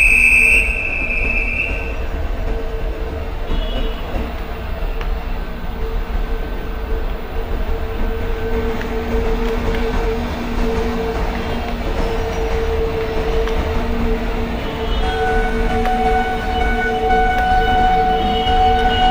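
A train passing on the main line in Microsoft Train Simulator, a long steady rumble of wheels and rail noise with sustained tonal hums and a brief high whine near the start, continuous and fairly loud throughout.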